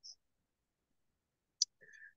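Two sharp, brief computer mouse clicks, separated by a long stretch of silence, near and clean, with a faint voice murmuring at the very end.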